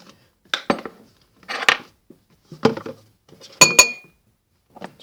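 Spoon stirring a homemade slime mixture of glue, shampoo and conditioner in a bowl, with a series of sharp clinks and scrapes against the bowl in irregular bursts separated by brief pauses.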